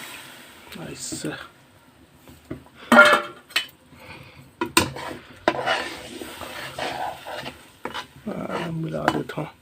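Stirring and mixing a spiced curry with oil and water in a cooking pot, a utensil scraping and clinking against the metal in irregular bursts, close by, with a voice speaking intermittently over it.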